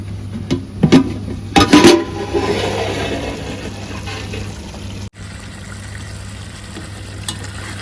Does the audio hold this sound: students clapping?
no